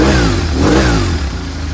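A 2001 BMW R1100S sport touring motorcycle's boxer engine revs up and back down twice close by, a deep throbbing tone rising and falling over a rough idle, with no talking.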